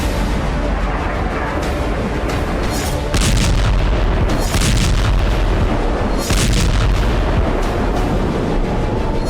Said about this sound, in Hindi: रॉकेट के साथ साथ बैलिस्टिक मिसाइल से तेल अवीव के आसमान में गदर मचाया।